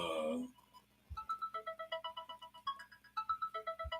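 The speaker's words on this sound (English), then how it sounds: "my phone go off" A mobile phone ringtone plays a rapid, repeating electronic melody of bright pulsing tones, moderately loud and close, after a brief burst of voice at the start.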